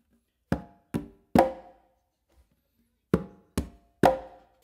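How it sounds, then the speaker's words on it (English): Conga pattern mixing finger strokes with close slaps: two groups of three sharp, ringing drum hits, each group ending on a louder, longer-ringing slap, separated by a short pause, played alone up close. "I'm going to do another close slap at the same time that I do that finger."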